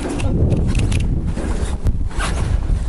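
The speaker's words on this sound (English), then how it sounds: "Starting to get a little breezy up here." Strong gusting wind buffets the microphone at a fire lookout tower high on a breezy summit, a steady loud roar with rustling surges and no talk.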